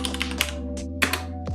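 Keys clack on a Leopold FC750 mechanical keyboard with Cherry Red switches, a close, irregular run of light taps and a few louder strikes over a low steady hum.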